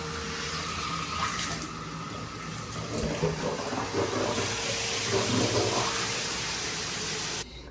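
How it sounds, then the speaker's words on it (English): Water released under pressure from a spout during a bathroom plumbing renovation near a toilet being installed, a loud, steady rushing splash that carries on without a break and stops abruptly at the end, with no talk. "I can release the pressure and it comes back out through the spout"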